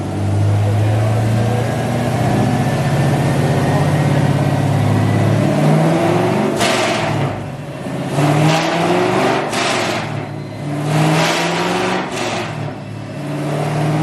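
A loud 2018 Chevrolet Camaro SS V8 on an E85 tune drones and revs hard on a dyno, rising in pitch, then sputters and pops as the throttle lifts, with brief voices nearby.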